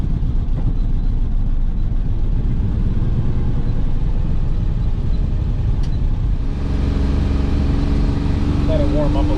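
A Ferrari 330 engine runs steadily with a low, pulsing drone as the car pulls away gently with a low idle, rising slightly in tone near the end; someone talks over it throughout.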